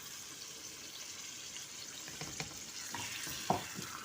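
Goat kidneys fry with a spice and tomato paste, giving a soft, faint sizzle with a few scraping stirs and light clinks toward the end.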